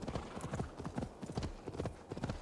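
Horse hooves clip-clop in a rapid rhythmic gallop while riding in the video game Assassin's Creed Valhalla, a close, steady run of thudding hoofbeats.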